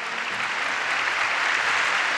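A boxing event audience applauds both fighters with steady, dense clapping that holds loud and even from start to finish, with no talk over it.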